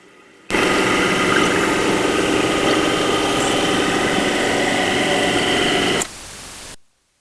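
A toilet tank refills through a newly replaced fill valve, giving a loud, even hiss of rushing water for about five and a half seconds. It then drops to a quieter trickle and stops, close by with no talking.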